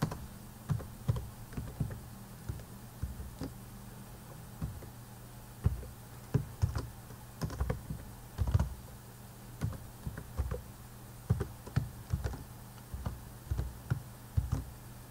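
Keystrokes on a computer keyboard while entering a formula definition in flow simulation software, a steady run of close, crisp clicks in irregular bursts over a quiet room hum, no voices.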